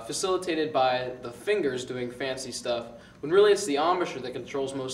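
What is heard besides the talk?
No distinct noise like a dog, phone or traffic.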